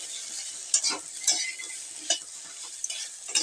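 Okra with salt and turmeric is stirred in a frying pan, rhythmic scrapes and soft clinks of a spatula recurring every half second or so over a light, continuous sizzle.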